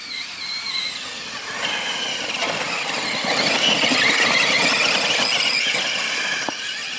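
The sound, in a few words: Traxxas Summit RC monster truck driving on snow trail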